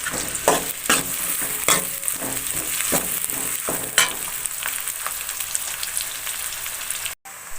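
Onions sauté in a pan for village-style kuravai fish curry, a close, steady sizzle broken by repeated scraping stirs and spoon taps, with a brief dropout near the end and no speech.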